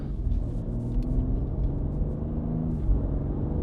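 A BMW X3M fitted with a CTS midpipe exhaust cruises in regular drive mode, giving a low, moderate rumble with a slight rising engine tone, fairly quiet and without talk.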